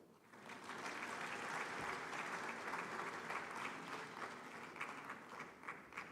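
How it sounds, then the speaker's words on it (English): A large audience claps steadily at the 30th Afreximbank Annual Meetings, a full, even roar of many hands sustained throughout with a few louder individual claps standing out toward the end. "He didn't hear the applause, please."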